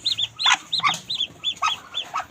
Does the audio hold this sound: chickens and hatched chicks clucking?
yes